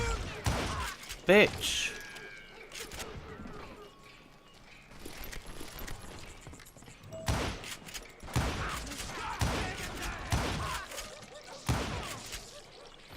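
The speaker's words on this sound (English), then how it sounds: "I'm getting shot by someone that does not exist." Scattered gunshots in the Western shooter Call of Juarez: Gunslinger, a sharp burst early then several thumping reports at irregular intervals, mid-distance amid ambient game noise, with a man muttering briefly.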